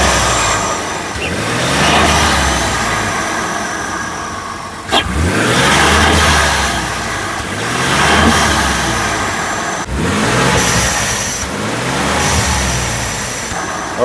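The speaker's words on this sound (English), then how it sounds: "you rev it. I want to hear what it sounds like up there." A Ford F150 with a 3.5 EcoBoost engine and a cold air intake revs loudly and up close, its engine note rising and falling in several repeated surges with no talk.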